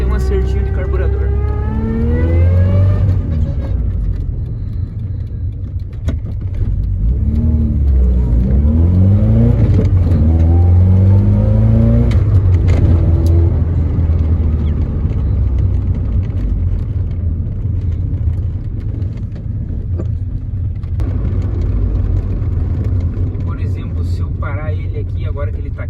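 A Volkswagen Passat 1.6 with a Weber 450 carburetor tuned for ethanol revs up and down repeatedly, the engine pitch climbing and falling. Someone talks over the loud, close engine noise throughout.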